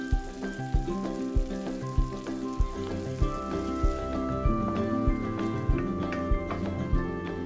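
Anchovy fillets and capers fry with garlic in a pan for spaghetti, giving a steady close sizzle with scattered sharp pops and no talking.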